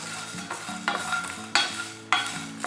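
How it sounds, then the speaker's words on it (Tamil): Whole spices for tea masala dry-roast in a pan over low heat, with a spoon scraping and stirring in several rough bursts over a soft, steady background hiss. No one speaks. "இப்போது இது எல்லாத்தையுமே வந்து நல்லா வறுத்துக்கணும். லேசான ஹீட்டில் வந்து நம்ம நல்லா வறுத்துக்கணும்."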